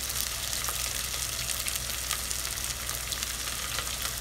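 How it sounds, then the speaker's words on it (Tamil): Sliced onions sauté in oil for prawn biryani cooked in a pressure cooker, giving a steady, close hiss of frying with faint stirring clicks throughout and no talking. "உள்ள வெங்காயம் எல்லாத்தையும் உள்ள சேர்த்து இது கொஞ்சம் லைட் ப்ரௌன் வர்ற வரைக்கும் நம்ம வந்து இதை வதக்கிக்கலாம்."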